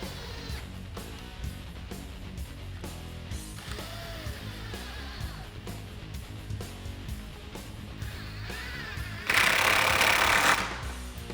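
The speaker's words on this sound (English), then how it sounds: "I'm just going to use my 10mm socket and install these 3 bolts." A power tool with a 10mm socket runs in bursts, driving three headlight bolts on a Ford F150, with a steady mechanical rattle, short gaps and one louder whirring burst near the end, no voices.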